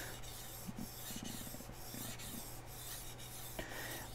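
A chef knife is stroked along a sharpening stone in steady, repeated rasping passes, close but quiet, with a low constant hum running underneath and no voices.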